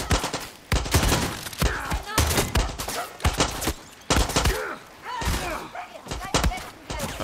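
Repeated gunshots and bursts of gunfire in the Far Cry 6 video game, sharp loud reports in irregular clusters with short pauses between, and someone talking in between the shots.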